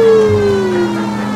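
Ambulance siren from the video game L.A. Noire, a single sustained wail that glides slowly downward in pitch, loud and close with no talking over it.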